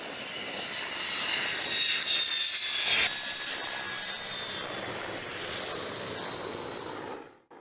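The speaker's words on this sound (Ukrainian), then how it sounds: "російські льотчики вчилися садити літаки просто на ґрунт." A Russian military jet roars loudly overhead with a high engine whine, the noise swelling then fading away as it passes and lands on a dirt airfield.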